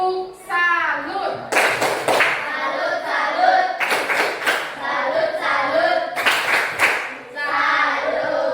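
A classroom of students claps together in short rhythmic bursts of a patterned clapping cheer, sharp hand claps separated by brief gaps, with children's voices chanting along between and over the claps.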